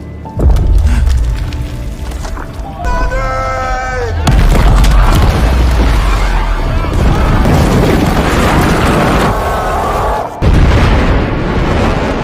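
A loud, deep booming blast from explosives blowing up a mountain rumbles through, followed by sustained roaring and crackling noise with dense low rumble throughout.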